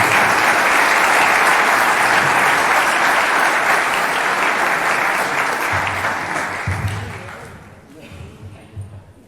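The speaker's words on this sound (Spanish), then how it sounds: "pido un aplauso" A crowd applauds loudly and steadily, the clapping thinning out and fading toward the end.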